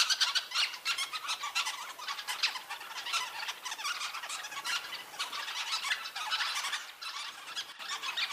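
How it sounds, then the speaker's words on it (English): Sociable weaver birds calling at their huge communal nests, a dense, continuous chorus of high squeaky chirps and twitters from many birds at once, fairly loud and close. "Sociable weavers are tiny little birds"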